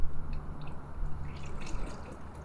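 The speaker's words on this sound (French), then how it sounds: "je déplace beaucoup plus d'eau" A paddle pushes through water in a continuous close sloshing and dripping wash, fairly loud and steady throughout with no talk.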